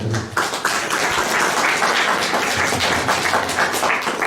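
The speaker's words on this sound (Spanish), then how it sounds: "al cual lo recibimos con fuertes aplausos" Dense applause from a crowd, steady clapping filling the room for a few seconds.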